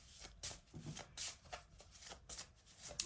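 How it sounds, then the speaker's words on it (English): Playing cards being shuffled in quick riffles and soft slaps, several bursts close by with short pauses between. "I do shuffle these cards"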